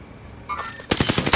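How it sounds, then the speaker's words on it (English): Automatic gunfire in the Call of Duty: Modern Warfare video game, starting from near quiet with a short burst and then a loud, rapid string of shots close behind the listener. "I'm being shot from behind too."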